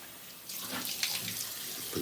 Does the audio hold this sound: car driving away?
no